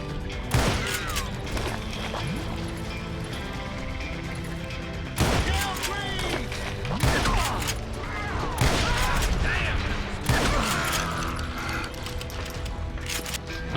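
Sawn-off rifle fire in the Western shooter Call of Juarez Gunslinger, several sharp shots in separate bursts with mechanical clicks between them, under game noise and occasional voices.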